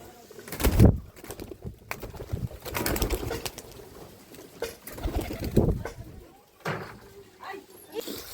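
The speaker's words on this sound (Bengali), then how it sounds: "অনেক সুন্দর কবুতর।" Pigeons in a cage coo near the listener between bursts of conversation, with clattering knocks from the cage and a sharp bang early on.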